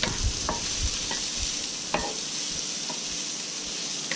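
Chopped green peppers and celery are stirred in a hot pan, with a steady sizzle under repeated light spatula scrapes and taps spaced irregularly throughout.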